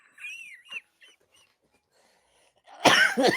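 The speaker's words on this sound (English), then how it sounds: "Sorry, I keep coughing." A burst of harsh coughing near the end, after a short stretch of faint sounds and quiet.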